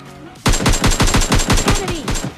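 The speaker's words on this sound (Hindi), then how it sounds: "तब तक मेरे ऊपर गोलियां चलने लगी" Gunfire rings out in a shooting video game, a sudden loud burst of about a dozen rapid automatic shots in quick even rhythm after a short quiet start.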